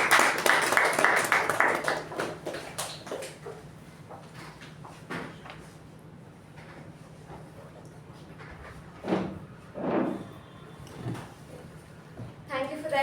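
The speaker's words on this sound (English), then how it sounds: "With a huge round of applause, please welcome the acting president of the day" Applause at a Toastmasters meeting welcoming the acting president, a burst of clapping at the start that thins out into scattered claps and room noise.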